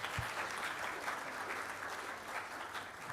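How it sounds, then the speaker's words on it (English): A hotel ballroom audience at a corporate evening event in Bahrain claps steadily, a dense, even wash of applause that holds for a few seconds with no voices over it. "how about a big round of applause for Strong Force?"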